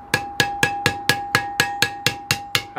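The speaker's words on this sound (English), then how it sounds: "turn the hammer now and hit with a flat side" A hammer strikes a metal ribbon in eleven evenly spaced, ringing blows, each a sharp clang with a sustained metallic tone, close and loud with no talking, as a tinker shapes metal.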